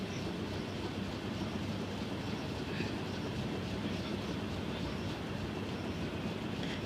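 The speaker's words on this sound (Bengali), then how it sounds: "এই যে গাইজ দেখুন, ট্রেনটা চলে আসছে ব্রিজের উপর দিয়ে।" A train rolls across the Hardinge Bridge at Paksey over the Padma River, producing an unbroken low roar and faint wheel clatter. The sound is steady and sustained, near, with no talking.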